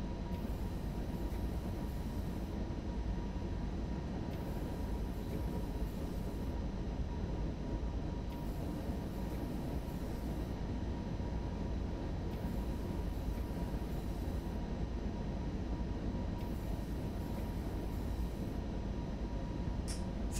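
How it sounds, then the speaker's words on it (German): A DB class 612 diesel railcar in Train Sim World 3 passes in the opposite direction, a steady, loud rail rumble that lasts throughout with no break and no talk. "Da kam noch eine hübsche 612er uns entgegen."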